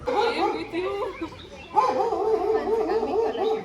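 Several dogs bark and yip in short overlapping bursts, fairly close and not aggressive, with a brief pause midway before the barking resumes.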